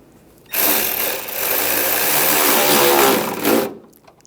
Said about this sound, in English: take the bolts, get this started, and we'll tighten that down